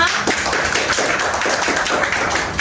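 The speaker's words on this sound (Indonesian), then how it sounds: "tepuk tangan untuk semuanya" A classroom of students gives a short burst of clapping, close and fairly loud, with busy overlapping claps continuing evenly through the brief moment.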